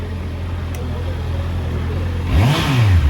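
A motorcycle idles with a steady low drone, then its engine revs up sharply and falls back near the end, loud and close.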